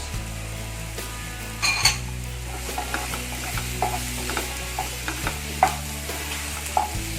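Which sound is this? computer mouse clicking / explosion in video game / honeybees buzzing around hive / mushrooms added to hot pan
mushrooms added to hot pan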